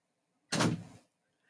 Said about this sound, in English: Can you go close the door, please?